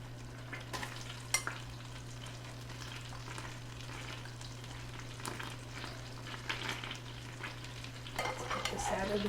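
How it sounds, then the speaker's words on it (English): Breaded chicken cubes sauté in a pan with a soft, steady sizzle under a low hum, punctuated by occasional utensil scrapes and clinks and a livelier burst of frying toward the end. "the chicken cubes that are breaded into that. We're going to saute them just for a few minutes."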